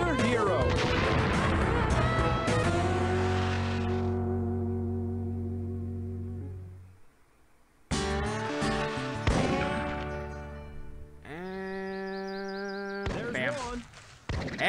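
Rifle shots fired at bighorn sheep in the hunting arcade game Big Buck Hunter Pro, two or three sharp reports with ringing game music and effects between them, under a voice talking.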